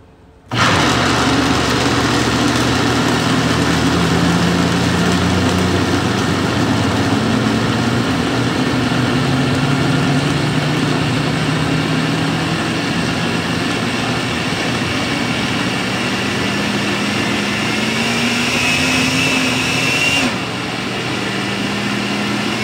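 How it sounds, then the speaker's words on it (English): Loud, continuous motorized whirring of a blender blending food for weaning puppies, a steady high-powered drone with shifting pitch that runs throughout and cuts off near the end. "go ahead and blend this up"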